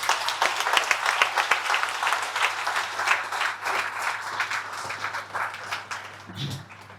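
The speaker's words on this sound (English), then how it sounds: "Big round of applause for the top 20, guys." A room full of people at a monthly company meeting applauds steadily, with dense, continuous clapping that fades slightly toward the end.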